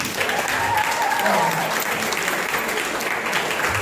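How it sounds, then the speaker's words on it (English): An audience applauds the founders at a live event, steady dense clapping from many hands throughout, fairly loud and close, with no break. "Let's clap for all of the founders."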